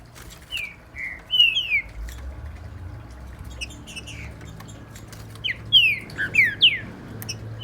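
A green-winged saltator (trinca-ferro) sings loudly and nearby in short, bright whistled phrases that come in bursts over a low background rumble.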